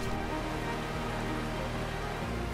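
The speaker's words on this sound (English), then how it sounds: "This is what 4 inches of rain in 2 days looks like." Heavy rain during a downpour that floods roads, heard as a dense, constant hiss of drops on surfaces, loud and unbroken throughout, with no voices.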